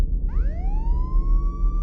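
A single police siren rises sharply in pitch and holds a steady high wail over low background rumble, moderately loud.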